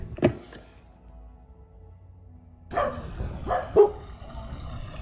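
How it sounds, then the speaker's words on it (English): Dogs bark in a backyard at a distance, with one sharp yip early on and then a cluster of barks and whimpers a few seconds later, moderately loud over a quiet outdoor background. "So you hear the dogs here in the backyard"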